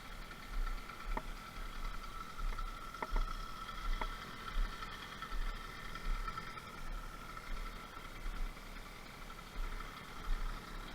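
A five-year-old motorized bicycle engine idles steadily, a low continuous putter with an even rhythm and a few faint clicks, close by with no talk.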